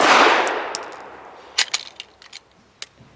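Sharp pistol shots from a folding pistol ring out at an outdoor range, one loud report followed by a run of quicker, fainter cracks and metallic clinks, spaced irregularly.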